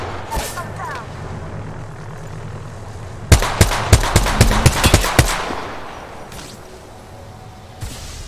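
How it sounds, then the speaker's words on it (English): A burst of rapid gunfire in Apex Legends, several sharp close shots in quick succession over a steady ambient game rumble, then fading back to low background noise. "Getting shot at."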